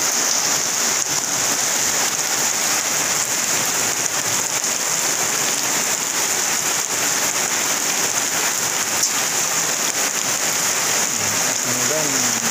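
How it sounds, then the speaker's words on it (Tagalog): Heavy rain pours down steadily for the whole stretch, a dense, loud hiss of drops drumming on surfaces without pause. "Lakas na ulan."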